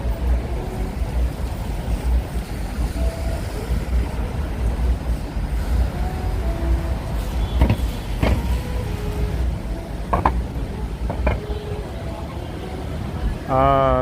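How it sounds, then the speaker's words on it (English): Vehicle traffic moving through Times Square in New York City at night forms a continuous low street rumble with passing engines, occasional sharp clicks and a brief horn-like tone near the end, with talk mixed in. "A little bit of a vehicle traffic through Times Square."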